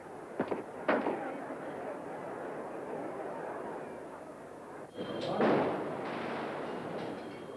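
A few sharp gunshots crack out, two near the start and a heavier burst later, over a steady low rumble.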